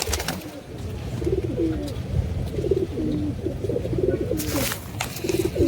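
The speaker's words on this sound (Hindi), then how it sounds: "अब ये कबूतर अपना पास है" A pigeon coos repeatedly in low, throaty phrases, close by, over a steady background hum with a few brief clatters.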